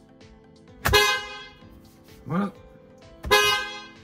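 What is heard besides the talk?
car horn honking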